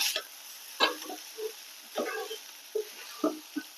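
Salted flattened rice (aval) stirred in a pan, a handful of soft, separate scraping strokes with quiet gaps between them, close and fairly faint.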